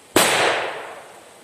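A single Piromax Nitrox PXP208 firecracker bursts with one sharp, loud bang that rings out and decays over about a second outdoors, with no voices.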